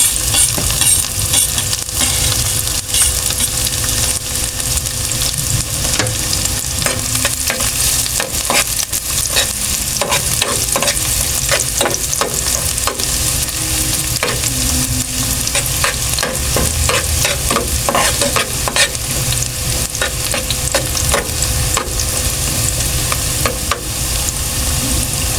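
Aromatics sautéing in hot cooking oil with tomatoes: loud, steady sizzling throughout, broken by frequent scrapes and clinks of a utensil stirring the pan, close up and with no one talking.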